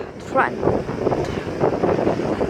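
Gusty wind buffets the microphone during a rocky scramble from boulder to boulder, a steady low rumble with swelling gusts throughout, close and loud, while someone speaks over it.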